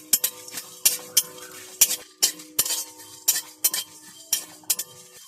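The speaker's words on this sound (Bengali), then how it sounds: "ধনিয়া মৌরি জিরে আর মরিচ একসঙ্গে ভেজে নেব হালকা করে আমি নেড়ে নেব কড়াই" Wok spatula scraping and clinking as dry red chilies, coriander, fennel, cumin and pepper are dry-roasted in a wok, with a steady run of sharp metallic strokes and stirring rattles, alone and close.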